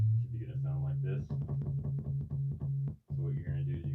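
An analog synthesizer sounds a sustained low note at the bottom of its keyboard, with the filter resonance turned up, holding a steady buzzing drone that briefly drops out near the end while a person talks over it.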